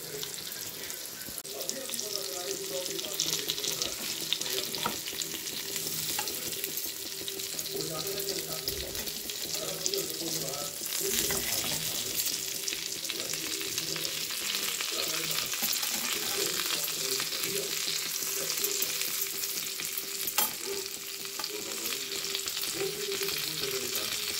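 Semolina-coated surmai fish fries in a pan with a steady, moderate sizzle that runs unbroken throughout, faint background noises and a brief trickle of water underneath.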